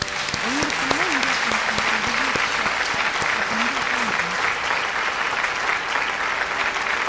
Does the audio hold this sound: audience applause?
yes